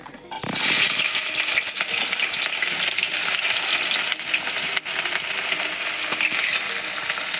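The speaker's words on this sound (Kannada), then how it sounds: "ಈಗ ಎಣ್ಣೆ ಒಳಗೆ ಫ್ರೈ ಆಗ್ಯಾವ" Chopped onions fry in hot oil in a pan, a steady bright sizzle running throughout with a few light clinks and stirring scrapes, close and fairly loud with no talk.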